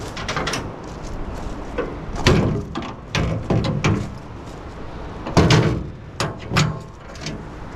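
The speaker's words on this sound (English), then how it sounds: "Okay, we can close the doors then." Trailer doors being closed during a scrap pickup, a series of loud thumps, clanks and bangs spaced irregularly over several seconds, with no talking.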